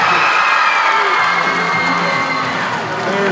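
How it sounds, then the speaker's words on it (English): An audience cheers and claps for a second-place winner at a talent show, a loud continuous crowd roar with whoops and shouts throughout. "please, a big round of applause for Addie."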